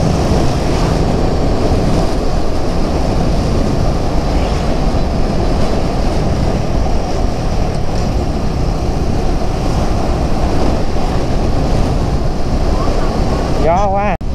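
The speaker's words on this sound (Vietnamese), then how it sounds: "Gió quá." Strong wind buffets a camera outdoors by the sea, a loud continuous roar with surf-like rushing throughout.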